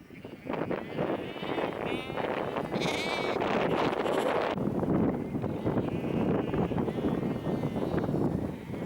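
A flock of sheep in Patagonia bleating continuously, many overlapping calls near and far, with some wind buffeting in the background.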